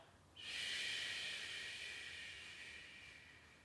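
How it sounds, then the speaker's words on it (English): A single gentle exhalation during a chi kung breathing exercise, a soft steady breath that starts suddenly, then slowly fades over a few seconds, close and quiet. "Breathing out."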